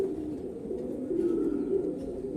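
Several pigeons in a kept flock, including pattah (collared) birds, coo in a steady overlapping low drone, close and continuous without a break.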